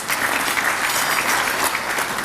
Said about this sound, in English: Let's perhaps give them a little clap